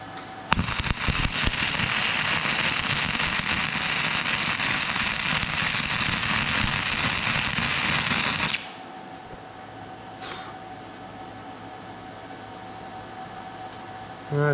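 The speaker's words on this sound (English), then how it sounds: "we're welding to a thicker piece here, so hopefully I don't burn through it" MIG-style welder set low, joining thin metal to a thicker piece for a camper motorcycle rack, crackles and hisses in one loud continuous burst for about eight seconds, then cuts out to quiet room hum.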